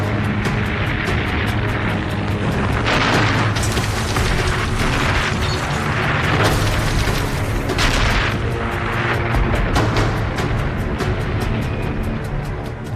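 A German 88mm anti-tank gun in wartime combat fires in loud, repeated booms with explosions, dense and continuous at close range, layered over clanking mechanical battlefield noise with no pauses.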